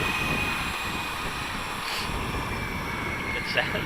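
An RC jet airliner model on its maiden flight passes at a distance, a faint, steady whine with a thin high tone over a low rumble, with a short sharper burst near the end.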